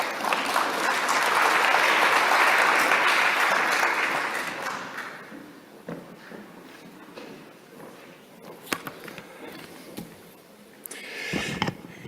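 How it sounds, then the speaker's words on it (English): Audience applause for a speaker at a World Water Forum cocktail evening: a dense burst of clapping swells for a few seconds, then fades into scattered claps, footsteps and room bustle. "Please give him a round of applause."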